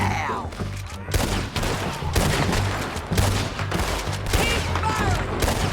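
Gunfire in the video game Red Dead Redemption 2 rattles in rapid volleys of close shots and bursts. A voice is also heard against the game's background sounds.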